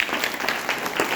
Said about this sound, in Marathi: सगळे हुशार आहेत म्हणून स्वतःसाठी आधी जोरात टाळ्या वाजवा